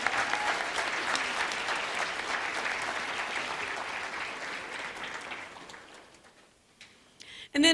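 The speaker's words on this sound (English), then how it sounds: "Let's give them another round of applause as they leave" Audience at a middle school groundbreaking ceremony claps for students, steady applause that gradually thins and fades out near the end before a brief sound at the close.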